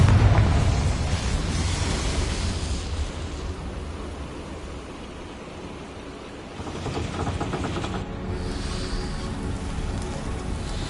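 A Confringo blasting curse explodes in Hogwarts Legacy with a loud, broad rumbling roar, fading over several seconds before a second noisy swell of debris-like crackle rises and sustains.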